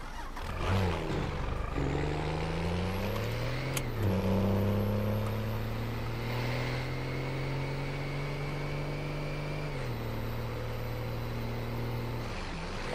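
A truck engine in a driving game hums steadily throughout, its pitch rising as it accelerates and shifting through gears, loud and continuous with no talking.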